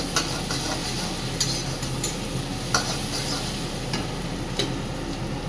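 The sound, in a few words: garlic and onion frying in pan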